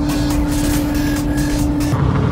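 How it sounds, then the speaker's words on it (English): Worn, very loud tires on a moving car roll with a steady, droning road roar and a persistent tonal hum, continuous and close throughout with no speech. "I think I had the loudest tires in the entirety of Australia."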